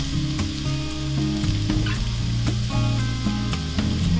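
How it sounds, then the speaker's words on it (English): Vegetables sauté in a little extra virgin olive oil inside a small Dutch oven, a loud, close, continuous sizzle broken by scrapes and light knocks of a utensil, with a tonal hum beneath and no talk. "I'm gonna saute my vegetables."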